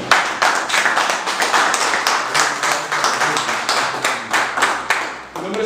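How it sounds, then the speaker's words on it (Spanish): A crowd at a formal ceremony in Madrid claps in a lively, rhythmic burst, individual hand claps close and loud, sustained for several seconds without voices. "quiero en primer lugar empezando pidiendo un aplauso para ustedes por venir"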